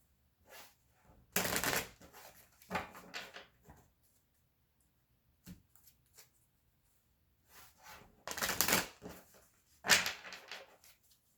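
Several brisk riffle shuffles of a card deck, short rustling bursts separated by quiet pauses, close and fairly soft.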